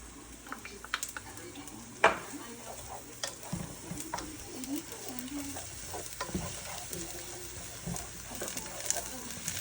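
Garlic and sage frying in a pan for an Italian dish: a soft close sizzle runs under frequent stirring scrapes and an occasional clink of utensil on metal, with no one speaking.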